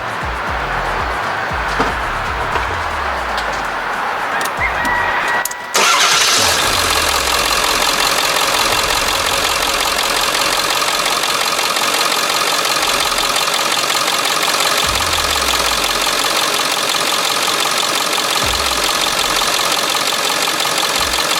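A Ford F-350 pickup with a 7.3 turbo diesel engine cranks and fires after an oil change, then settles into a loud, steady, rattling diesel idle with knocking that carries on alone to the end.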